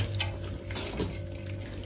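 Water is poured into a masala curry with tamarind while it cooks, a steady close rushing stream that runs without pause.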